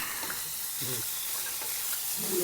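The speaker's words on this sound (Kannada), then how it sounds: "ಇದರ ನೋಡಿ ಇಲ್ಲೆಲ್ಲ ಫುಲ್ ಫ್ರೈ ಆಗ್ತದೆ." Onions frying in a pan while Maggi noodles are prepared, a steady close hiss of sizzling oil running throughout with a few brief scrapes and clatters of stirring.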